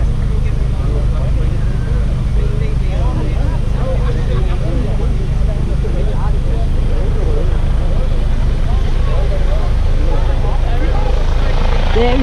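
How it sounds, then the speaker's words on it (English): A police helicopter taking off roars loudly and continuously at close range, its heavy rotor thrum filling the whole stretch, with muffled voices somewhere beneath it. "watch the police helicopter taking off"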